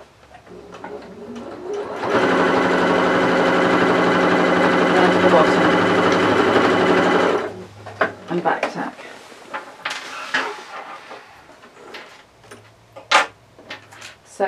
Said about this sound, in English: we'll sew around the rest of his tummy